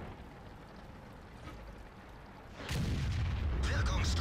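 A 150mm HE round fires from the Waffenträger auf E 100 tank destroyer in World of Tanks, a single heavy boom cutting in sharply after quieter engine rumble and sustaining a loud, low roar to the end.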